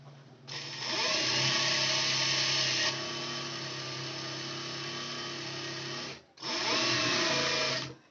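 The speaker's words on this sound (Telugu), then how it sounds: "ఇలా స్టిచ్ చేస్తున్నాను అన్నమాట" Electric sewing machine stitching a folded strip of cloth into a blouse dori, its motor whirring loud and steady for about six seconds, stopping briefly, then running again.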